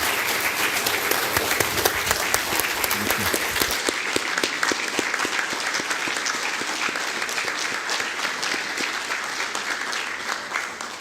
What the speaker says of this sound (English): I would like to invite you again to give a round of applause to our Prime Minister, Mr. Aliko Dangote.